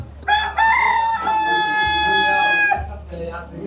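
A rooster crows loudly and close by at a market in Kohima, Nagaland, one long drawn-out call with clucking chickens around it.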